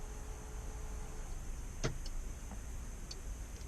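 A Porsche 992 locking with a single sharp click and a brief chirp, then a couple of faint clicks, against a steady low background hum with no talking.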